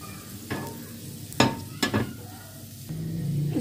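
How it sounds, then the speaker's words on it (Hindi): Vegetable and potato shashlik sticks fry in a pan, a steady close sizzle running under a few sharp clattering knocks and scrapes as the sticks are moved. "स्टिक हमारी सब तैयार हो चुकी हैं तो अब करेंगे हम इसको फ्राई।"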